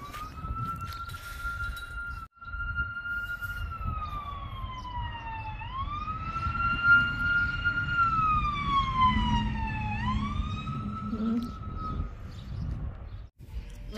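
A police siren wails nearby, its pitch rising and falling in long sweeps over engine rumble, the tone shifting as the vehicle passes.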